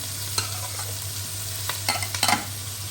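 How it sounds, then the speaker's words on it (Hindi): Sliced onions and green chilies stirred into bitter gourd (karela) frying in oil for a dhaba-style karela piyaz, with a steady sizzle and a few brief scrapes of the spoon. "इसमें मैं ऐड करूँगी ये प्याज, ठीक है, और ग्रीन चिली है इसके साथ"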